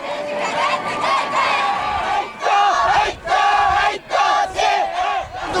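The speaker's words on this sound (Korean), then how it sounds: "목청이 터져라 외치는 친구들의 함성이 분위기를 더욱 뜨겁게 만드는데요." A crowd of high school students, led by senior exam candidates, shouts cheers at full voice in rhythmic bursts with short breaks between chants, loud and close.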